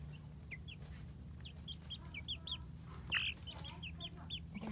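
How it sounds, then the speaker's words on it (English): Half-grown chicks on the bottom tier of a rack in a greenhouse keep up a busy chorus of soft cheeps and clucks, one call briefly louder, over a steady low hum. "the bottom there, we have the chicks that aren't so little anymore"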